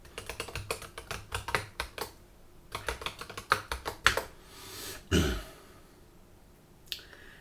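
Brisk clicks of a computer keyboard as a password is typed for a Windows 10 sign-in, a close, quick burst of keystrokes, then a pause, a soft thud and one last click.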